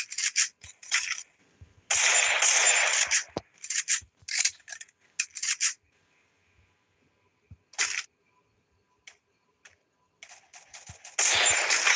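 Rapid gunfire bursts in the Free Fire battle royale game, sharp crackling volleys in several separate clusters with short silent gaps between them, and no talking over them.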